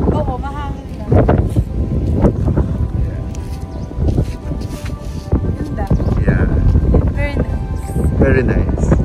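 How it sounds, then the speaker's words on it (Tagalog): Strong wind buffets the microphone in a steady roar while people talk over it outdoors by the water, near a kayak. "Oo, mahangin lang."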